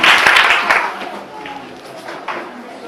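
A church congregation applauds and cheers the Lord, a burst of clapping and crowd noise that fades after the first second into a quieter murmur with scattered claps.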